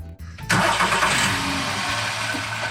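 A 2007 Skoda Fabia that had misfires and a lit check engine light cranks briefly and fires up. Its engine then runs loud and steady close by, with no talk over it.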